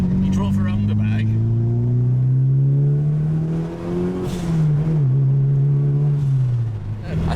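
Mitsubishi Evo 6 accelerating on the road, heard from close by as a loud, steady engine drone whose pitch climbs, dips briefly with a gear change, then climbs again.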